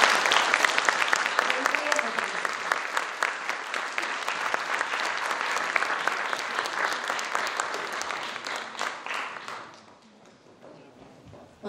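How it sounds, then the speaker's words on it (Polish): A concert audience applauds at a winners' concert of a folk music festival, with sustained, full clapping for about ten seconds that then fades quickly into near quiet. "największa nagroda to brawa publiczności."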